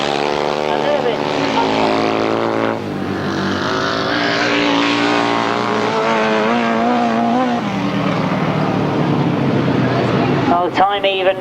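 Grasstrack racing machines at a 1994 summer meeting roar past on the back straight, a loud sustained engine drone with shifting pitch, under continuous commentary.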